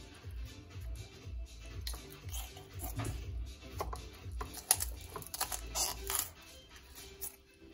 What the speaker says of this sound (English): all you need to do is cut along the backbone. You can do it with a knife or shears.